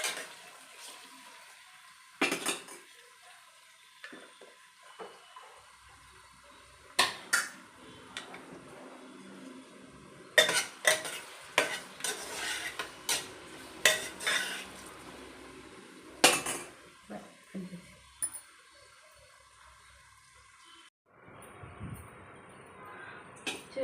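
Ginger and garlic fry in a pan while a spoon stirs, giving repeated close metallic scrapes and clanks over a low sizzling hiss, with the stirring coming in bursts and quiet gaps between.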